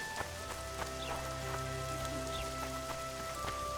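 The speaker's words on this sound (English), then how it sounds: "It's raining." Steady rain falls in the Witcher 2 game world, a constant soft patter with droplet ticks over a low droning game ambience, with no voices.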